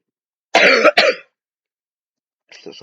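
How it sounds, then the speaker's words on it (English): Two sharp, close coughs in quick succession, followed after a short silence by a fainter third rasp. "Sorry about my coughing."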